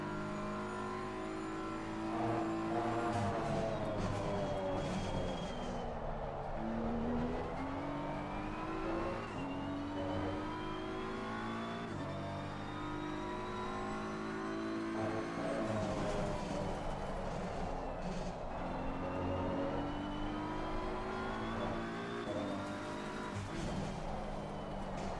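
A race car in Assetto Corsa Competizione screams through the gears, its engine note rising and dropping repeatedly with downshifts under braking and tire noise, loud and continuous with no talking.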